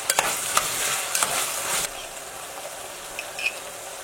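Ginger and garlic sauté in a pan for dry mutton peratal, crackling and sizzling with a few stirring scrapes at first, then settling to a softer, steady fry.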